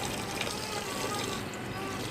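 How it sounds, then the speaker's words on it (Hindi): Roughly half a kilo of water pours steadily into a pot of white malai mutton karahi, a continuous close splashing rush with no pause. "तो इसमें तकरीबन मैं डालूँगी आधा किलो पानी"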